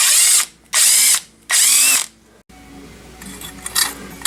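Power ratchet spinning out lower front control arm bolts on a 2012 Ford Focus, three loud high-pitched whirring bursts close by, followed by quieter clinks and rattles of the loosened bolts being handled.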